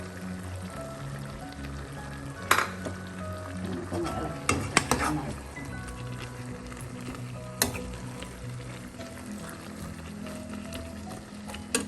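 Chicken curry for Kerala Malabar-style chicken curry sizzles and fries steadily in the pan while garam masala and chicken masala are stirred in, with a few sharp spoon scrapes and clinks over the constant hiss.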